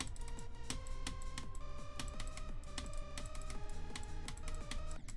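Rapid, steady clicking of computer keys while playing a rhythm video game, with dense strikes and repeated tones layered over the clacks. No voices can be heard.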